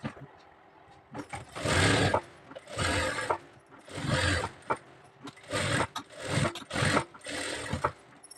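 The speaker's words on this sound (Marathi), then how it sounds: "सुळसुळीत कापडावरती हा हात असा ठेवूनच शिलाई मारायची।" A sewing machine stitches lining onto slippery blouse fabric in a series of loud, close, buzzing runs of about a second each, separated by short pauses.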